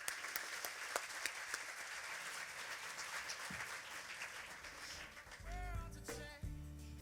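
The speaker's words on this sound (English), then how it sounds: "Let's give him a big round of applause, everyone." Audience applause at a groundbreaking ceremony, a steady crowd clapping that carries on at an even level, ending in a few scattered low thumps near the close.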